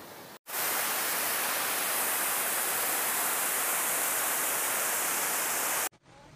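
Manthoka Waterfall in Skardu, Pakistan, roars as a steady, dense rush of falling water, loud and constant, cut off sharply at both ends with no voices.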